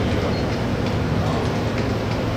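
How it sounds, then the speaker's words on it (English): A model train on a Santa Fe layout rolls by close up, a steady dense rumble with faint rhythmic ticking of wheels on track throughout. "a train that's running by over here right now"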